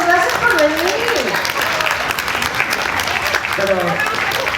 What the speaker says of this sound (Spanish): ¡Aplausos! Gracias por venir.